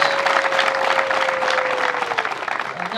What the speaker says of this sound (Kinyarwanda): Reka twongere twiha amashyi kuri uyu mwanya twafashe.